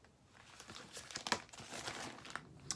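A paper brochure from a wig package being handled close up, giving soft crinkling and rustling with a few sharper crackles.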